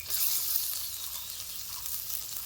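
Chopped tomato hits a pan of frying spices (cumin powder, salt and Kashmiri red chilli powder) for a curry, producing a steady, close, hissing sizzle with no talking.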